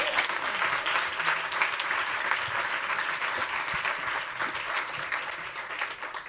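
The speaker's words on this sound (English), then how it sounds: "I'd love for you to give not a golf cap, but a full-on clap to welcome Sam Smith to the stage" Audience applause welcoming a speaker to the stage at a women's leadership event, steady dense clapping from a sizable crowd lasting the whole stretch without a break, close and fairly loud, with no talk over it.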